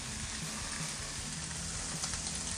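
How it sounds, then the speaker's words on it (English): Diced bacon fries in a pan over medium-high heat, a steady, even crackling sizzle with faint hiss and small pops, close and unbroken, no talking. "So today I'm going to add in some diced up bacon"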